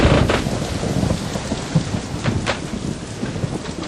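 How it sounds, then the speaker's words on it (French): Thunderstorm with heavy rain beating down steadily, broken by several rumbling thunder cracks, loud and close, no voices. "Une tempête se lève."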